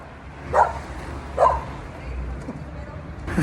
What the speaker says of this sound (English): then a dog yelling at me